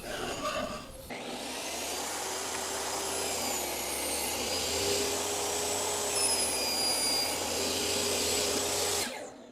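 A table saw cutting a wooden board in stages, the blade spinning up abruptly into a loud, sustained whine and roar of cutting that holds steadily for several seconds before cutting off.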